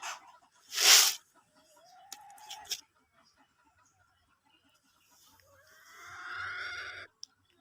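Hens being fed wheat give a sharp squawk near the start, then a few soft, scattered clucks and a drawn-out call later, with quiet gaps between.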